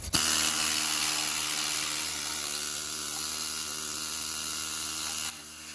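A needle scaler working rust off the frame of a 1994 Jeep YJ, a loud continuous high buzzing rattle that holds steady for several seconds before cutting off abruptly, close up with no talking.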